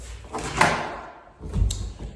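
A door at a new home swings and closes with a soft thud, followed by a second low bump, heard up close with no talking.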